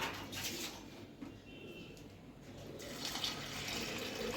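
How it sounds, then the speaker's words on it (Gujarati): Hot water is poured into a cooking pot of soaked lentils for dal fry, a soft steady stream of liquid heard up close and fairly faint, with no talking. "ગરમ પાણી નાખ્યું"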